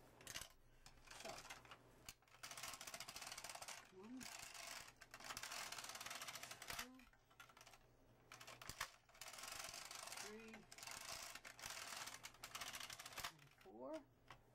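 A knitting machine carriage is pushed back and forth knitting tuck stitch rows after a fix for dropped stitches, giving repeated rattling, ratchet-like mechanical sweeps in several bursts with short pauses between passes.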